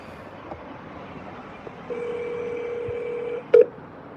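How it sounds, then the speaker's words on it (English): A telephone being dialed: a steady tone holds for about a second and a half, then a short, loud keypad beep follows, over faint background hiss with no talk. "I'm just going to call him and let him speak."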